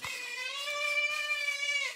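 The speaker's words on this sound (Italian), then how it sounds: "con gatto Denver che urla non riesco neanche a parlarvi" A cat yowls in one long, continuous, strained meow that holds steady for about two seconds, loud and close, as a hungry cat demands food at dinnertime, with no talking over it.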